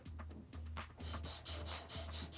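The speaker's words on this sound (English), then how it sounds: "A little bit of sandpaper." Sandpaper rubbed on plastic plumbing pipe, a series of quick rhythmic back-and-forth rasping strokes, close and fairly quiet, speeding into a steady run of short scrubbing passes with no speech.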